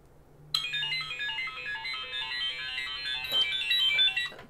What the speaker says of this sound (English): So Zachary, send me a text.